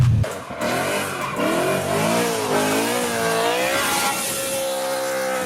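A 2008 BMW M3 with its 4-liter V8 revs hard, the engine note climbing and falling in loud, continuous sweeps that run the whole time with no talking.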